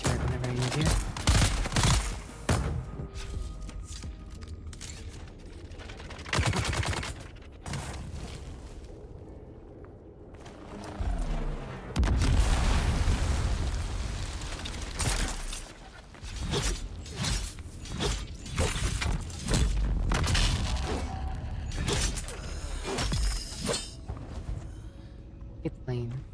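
A turret fires in a video game, with bursts of gunfire and mechanical clanks coming in clusters over a long stretch, loud and close, mixed with other game noise.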